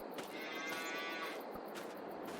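Cows low in a Farming Simulator game on a crowded dairy farm of about 25 cattle, with one drawn-out moo over steady, fairly faint background noise.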